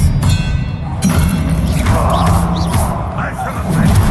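An Expelliarmus spell impact in Hogwarts Legacy lands as a dull thud with a swishing burst, followed by rumbling background noise and game voices.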